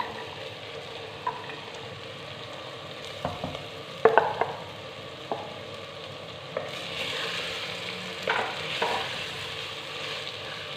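Boiled chana dal is stirred in a pan with a soft sizzle, scattered spoon scrapes and clicks, growing louder and hissier in the second half.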